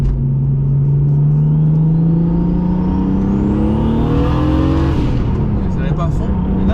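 A turbocharged BMW E36 325i running 1.5 bar of boost accelerates at full throttle, its loud engine drone climbing steadily in pitch, then dropping briefly at a gear change before pulling again.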